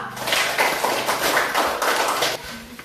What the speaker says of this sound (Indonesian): Mari kita berikan tepuk tangan untuk kelompok yang kedua